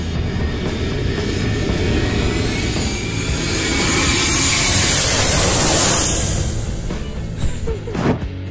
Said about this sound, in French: profitez des avions de passage qui passent au-dessus de votre tête